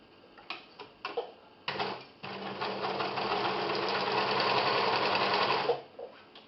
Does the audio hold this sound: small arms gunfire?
no